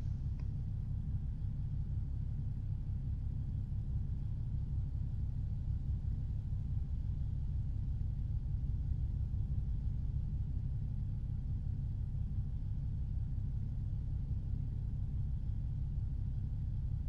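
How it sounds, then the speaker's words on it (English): Steady low truck engine rumble from American Truck Simulator while driving, a continuous loud drone with no pauses and no talking. "Hopefully this year another truck won't be so damn noisy like this one."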